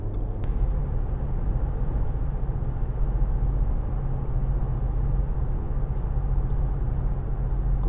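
A 2013 Audi A4 Avant 1.8 TFSI with Multitronic transmission accelerates on the road, its engine a steady, close low rumble that holds evenly throughout without a clear rise or pause.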